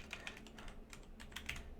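Fingers tap a computer keyboard on a Mac, a short run of light, quick keystrokes in an uneven rhythm, faint and close, with no voices.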